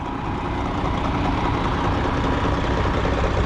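A tanker truck's engine idles steadily at close range, a smooth, continuous low rumble that holds even throughout with no talking.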